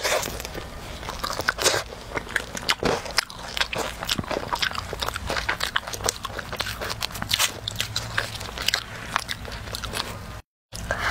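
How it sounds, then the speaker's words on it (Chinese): Close-up eating of a melting Wendy's ice cream cone: rapid crisp crunches and bites from the cone, with wet chewing in between, steady and intimate, recorded alone with no talking. "先吃这个甜筒，已经快化掉了。"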